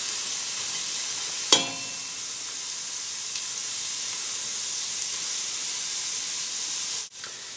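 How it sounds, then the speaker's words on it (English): Onion, celery, garlic and thyme drop into melted butter in a pan for a beef pie filling, bringing a sudden sharp hit and then a steady, even sizzle that carries on loudly before briefly dipping near the end. "in goes our rather classic combination here: onion, celery, garlic with a bit of thyme"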